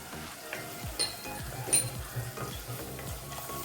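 Tomatoes sautéing in butter with red chili powder for dal makhani, a close, steady sizzle broken by repeated spoon scrapes and clinks against the pan, with no voices.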